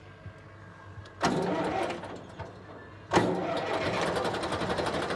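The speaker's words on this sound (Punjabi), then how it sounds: "ਇਹ ਥੋੜੀ ਰੇਸ ਵੱਧ ਕਰਨੀ ਪੈਂਦੀ ਆ ਫੇਰ ਹੀ ਸਟਾਰਟ ਹੋਣਾ ਇਹਨੇ" An HMT 5911 tractor from 2003 cranks with two abrupt bursts, the second catching into a steady, loud diesel roar that keeps running to the end.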